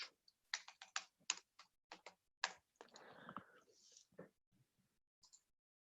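Computer keyboard keys clicking in quick irregular bursts while a git commit message is typed, close and fairly quiet, with short pauses between words and a brief soft breathy stretch midway.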